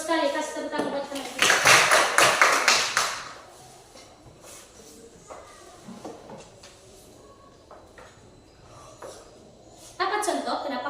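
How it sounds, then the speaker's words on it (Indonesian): A classroom of children claps for a classmate: a burst of applause for a couple of seconds, then scattered movement and a voice, and a voice speaking near the end. "kasih tepuk tangan buat teman"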